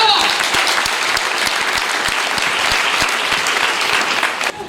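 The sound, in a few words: congregation applauding to acclaim God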